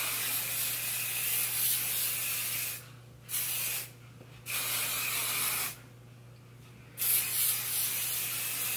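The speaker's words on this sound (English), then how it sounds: "this is the sparkling soda shine mist. And I'm just gonna spray some of this." Drybar Sparkling Soda Shine Mist sprayed onto hair: several close, hissing spray bursts of varying length separated by short pauses, with no talking.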